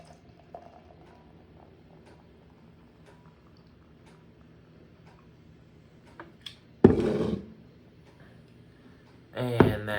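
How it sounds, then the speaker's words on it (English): Icehouse lager is poured into a glass in two short bursts, a gurgling, fizzing splash close to the microphone after a quiet stretch of faint background noise. "Let's go ahead and pour it up."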